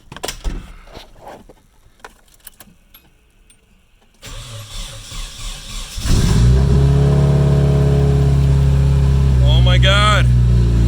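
A rebuilt Nissan KA24DET engine cranks after a quiet stretch, catches and settles into a loud, steady run, then revs sharply near the end, with a voice speaking over the start.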